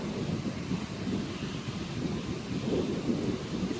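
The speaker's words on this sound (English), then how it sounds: "it's going to be thunder here and lightning here" Thunder rolling through a storm with rain, a continuous low rumble that swells and fades under a steady wash of rainfall, fairly loud and close, with no voices.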